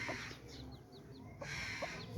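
Soft clucks from a hen mingle with a run of high, rapid peeping from her nine newly hatched chicks, close and fairly quiet.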